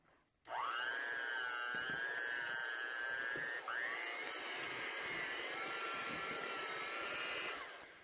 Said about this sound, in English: This is also a really cheap mixer.